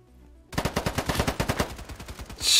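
A SCAR rifle in a video game fires a fast, evenly spaced burst of roughly a dozen loud shots, close and clear, after a brief quiet start.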